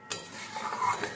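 A spice mixture and water are stirred in a pan for a paneer and potato curry, with a short burst of utensil scraping and clinking against the pan over a faint simmer, close and quiet.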